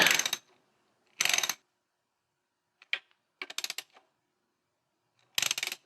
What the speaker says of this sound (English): we're gonna tighten up our final cap